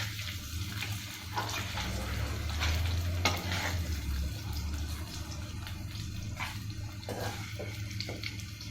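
Garlic cloves roast in a vessel while being stirred, giving a quiet, continuous sizzle broken by scraping stir strokes and light clinks of the utensil.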